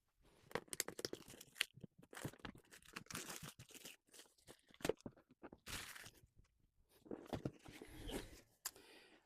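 Plastic wrapping and cardboard of a Dropzone Commander Operation Artemis tabletop game box being torn open and crinkled, a close, busy run of irregular ripping and crunching bursts with brief pauses.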